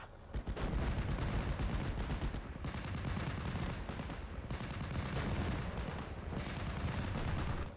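Off-map artillery strike in the strategy game Steel Division: Normandy 44, a sustained, loud barrage of heavy booms and rumbling blasts rolling on continuously for several seconds, with no voices over it.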